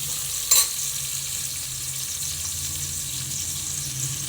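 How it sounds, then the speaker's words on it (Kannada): Onions frying in oil until brown for a mutton sambar, a constant hissing sizzle at moderate level with one brief clatter near the start and no voices. "ಆನಿಯನ್ ಸ್ವಲ್ಪ ಬ್ರೌನ್ ಕಲರ್ ಬರೋವರೆಗೂ ಚೆನ್ನಾಗಿ ಫ್ರೈ ಮಾಡ್ಕೊಬೇಕು."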